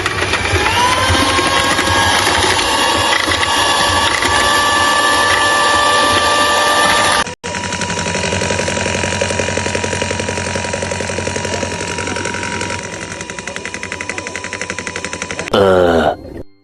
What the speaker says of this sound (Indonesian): Selanjutnya kita mixer.